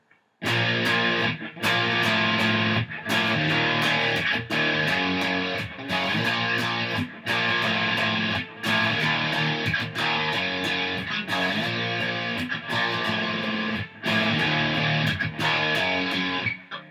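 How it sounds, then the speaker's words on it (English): A heavily distorted electric guitar plays a chunky, rhythmic bridge riff in repeated bursts with brief gaps between phrases. "again it's going to be distorted, and it's going to sound a bit like this"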